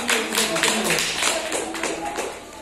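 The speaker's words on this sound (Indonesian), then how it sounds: "Beri tepuk tangan yang meriah untuk teman kita." Audience applause for a young contestant at a children's Islamic speech competition, a dense burst of many hands clapping close by, steady and fairly loud across the whole stretch, slowly thinning toward the end.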